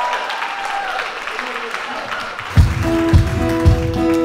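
An audience at the Mardis en musique de Beauceville 2020 concert applauds the performers: dense, steady clapping at moderate distance under a voice, then bright music with a thumping beat takes over midway.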